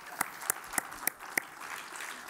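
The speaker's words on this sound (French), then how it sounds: "Je pense qu'on peut de nouveau applaudir le professeur Barizani" Scattered claps from an audience at a medical conference round table, a handful of sharp separate hand claps at a steady pace that quickly thin out, fairly quiet and without talk.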